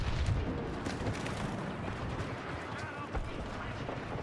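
Rapid blaster fire from a hero weapon in Star Wars Battlefront 2, repeated sharp shots crackling continuously through a busy battlefield mix of impacts, with a player's voice talking over it.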